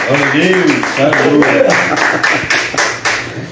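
Church congregation clapping in steady rhythm during a service, loud and close, with a voice speaking over the claps throughout.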